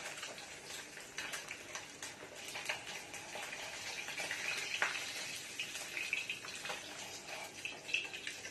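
Katla fish pieces fry in hot oil with a continuous soft crackling sizzle, steady and close, with occasional sharper pops and no voices.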